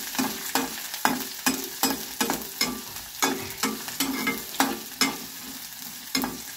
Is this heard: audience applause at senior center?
no